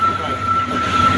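Train rolling along the rails on a curve near Thenmalai, a close continuous rumble with a steady high-pitched squeal from the wheels; a voice speaks faintly under it.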